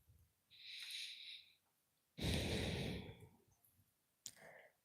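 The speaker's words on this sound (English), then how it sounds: "Deep breaths." Deep breathing during a stretching exercise at a wellness workshop: three distinct breaths, a long airy exhale, then a fuller, louder breath and a short final puff, close and alone.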